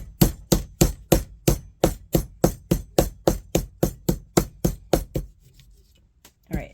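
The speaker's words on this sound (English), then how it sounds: "And then you're going to take a hammer." A hammer strikes an aluminum steam table pan for a dollhouse, about twenty sharp, evenly spaced metallic blows in quick succession, then a pause and one faint tap, with no talking.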